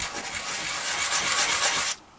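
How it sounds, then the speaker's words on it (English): Old skateboard grip tape is rubbed back and forth on a plastic surface while modding a Game Boy Color, a close, steady rasping scrape lasting about two seconds before it stops abruptly. "this is just sanding down that surface little bits at a time"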